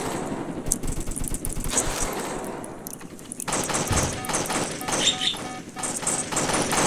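Rapid bursts of automatic gunfire in the Roblox Jailbreak video game, continuous and fairly loud throughout, with a brief drop partway through before the shooting resumes.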